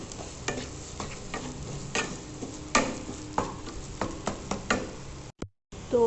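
Food is stirred and mixed in a pan with a utensil, giving repeated close scraping knocks over a steady frying sizzle. A brief dropout of silence comes near the end.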